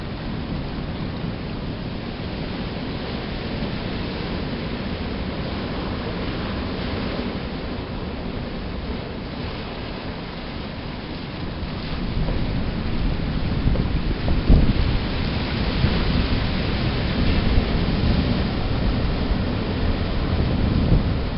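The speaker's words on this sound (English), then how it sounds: "Really, most of all, what I like about the ocean is what it sounds like." Atlantic Ocean waves break on rocks on a late summer day, a steady, dense roar of surf with no talking, swelling louder and fuller about halfway through.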